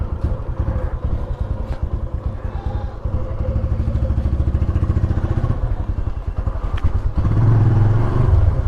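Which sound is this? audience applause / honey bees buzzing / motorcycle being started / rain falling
motorcycle being started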